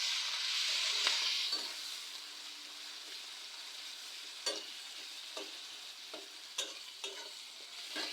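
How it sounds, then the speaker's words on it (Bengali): Chopped onion, chilli and garlic fry in oil during large-batch cooking, with a bright hiss that is loudest at first and then settles, and sharp intermittent scrapes of stirring against the pan. "এবার তেলের মধ্যে আমি দিয়ে দেবো পেঁয়াজ কুচি, মরিচ কুচি ও রসুন কুচি।"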